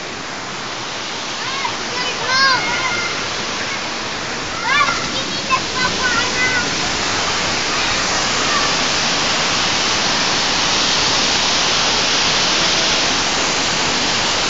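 Vera Falls waterfall in Malinao, Albay: a loud, steady roar of rushing water, with people talking over it for the first several seconds and then the water alone.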